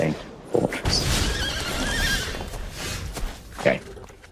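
Horses neigh and whinny in the Magic: The Gathering Arena card game, a loud drawn-out whinny with shorter snorts at the start and end, over a busy game soundscape.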